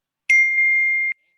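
A single bright computer notification ding sounds alone, holding a clear steady tone for almost a second before cutting off.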